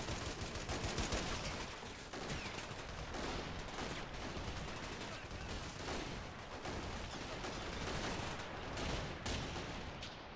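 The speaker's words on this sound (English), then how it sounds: "The machine guns are still very active." Sustained machine gun fire rolls on through a Men of War Assault Squad battle on a beach during the Soviet invasion of Manchuria, loud overlapping bursts and rapid cracks with occasional heavier blasts, steady for about ten seconds.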